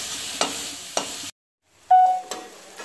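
Onions stirred and frying in a pan in a home kitchen, with a few scraping stir strokes over a soft sizzle, a brief silent gap, then more stirring close up; no talk.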